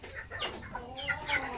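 A large Shamo Aseel chicken, around 4 kilograms, clucks a few times in quick succession, close by, with soft background noise.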